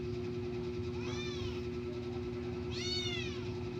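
A cat meows twice, a first longer call around the middle and a louder second one near the end, close by over a steady low mechanical hum.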